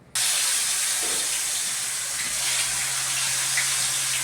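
Marinated chicken fries in hot oil, a broad steady hiss that begins abruptly and holds loud and close without a break, with faint crackles scattered through it and no voices.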